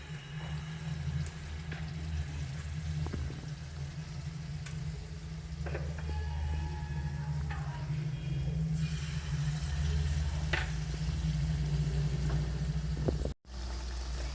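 Balls of khoya dipped in flour batter frying over low heat, a soft continuous bubbling sizzle with a steady low hum underneath and occasional faint clinks, no voices.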